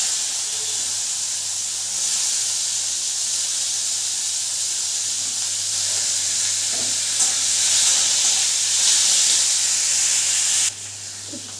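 Chopped onion frying in hot oil with mustard seeds and bay leaf, a steady loud sizzle and hiss with occasional stirring scrapes, close and continuous throughout.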